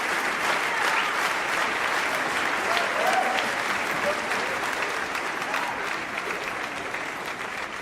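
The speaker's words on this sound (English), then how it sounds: "We've got claps." Applause sound effect at a magic trick show: a dense, steady wash of clapping from many hands, evenly loud throughout and gradually tapering slightly toward the end.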